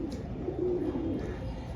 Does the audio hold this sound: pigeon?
yes